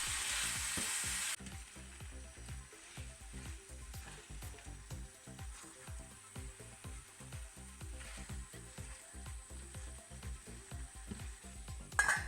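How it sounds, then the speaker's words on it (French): Vegetables are stirred in olive oil in a pan, giving a constant soft sizzle with rhythmic scraping strokes of a utensil, close and fairly quiet; a brief louder burst of frying noise opens the clip. "Et je mélange quelques instants pour bien imprégner l'huile d'olive"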